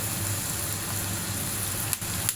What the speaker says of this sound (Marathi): आता आपण अशी दुसरी पुरी तळून घेऊया आपण इथे दुसरी पुरी टाकतोय